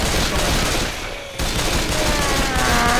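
Rapid, dense gunfire from a powerful gun in the zombie shooter Left 4 Dead 2, a loud continuous burst with a brief dip before firing resumes, with in-game effects and faint voices beneath.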